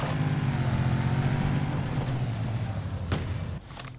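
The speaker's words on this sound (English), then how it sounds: "It's not doing the engine noises" In Fallout New Vegas, a car engine drones steadily with a low rumble and then dips near the end as the revving eases, heard alone without talk.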